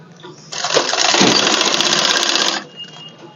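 An electric sewing machine runs in one steady burst of about two seconds while stitching a suit collar, close and loud, with faint handling sounds before and after.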